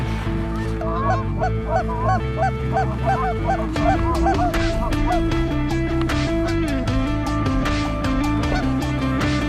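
Geese honk in a loud, dense chorus during an early goose season hunt in Michigan, with overlapping calls repeating continuously and close by.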